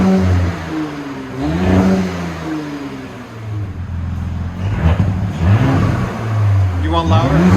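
A 2019 Audi SQ5 with a 3.0L V6, dual exhaust and the rear muffler deleted, revs loudly up and down in repeated swells, its deep exhaust note close by while a voice talks over parts of it.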